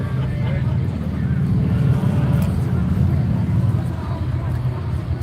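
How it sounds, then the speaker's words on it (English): A Volkswagen Type 1 air-cooled engine fitted in a late-model VW idles at a car show, a steady, loud, low rumbling drone that holds without breaks. "Type 1 engine in a late model VW."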